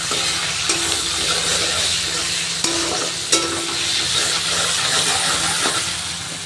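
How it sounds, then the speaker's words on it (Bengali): Onions fry in a pan in a village kitchen, a loud continuous sizzle and crackle broken by a few scraping stirs and clicks. "এইদিকে আমাদের পেঁয়াজটা ভাজা চলছে।"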